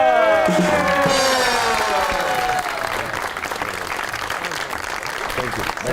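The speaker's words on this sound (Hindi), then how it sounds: "आपकी बहुत सी तालियों में the one and only Mubashshir Lukman." A television studio audience applauds a guest's entrance, loud sustained clapping with some cheering over bright music, easing slightly after a few seconds.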